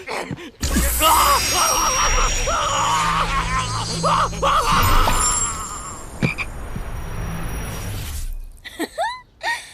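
A toad croaks loudly and repeatedly in a fantasy period drama scene, harsh rasping calls filling most of the moment before a short pause and brief cries at the end.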